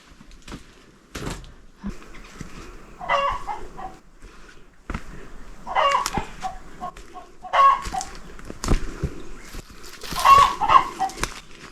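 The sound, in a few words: chicken clucking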